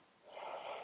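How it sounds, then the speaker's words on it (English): A single sharp, breathy intake of air during a breathing exercise, rising quickly from quiet and holding as a soft rushing hiss for under a second, close and alone. "So let's start our breathing."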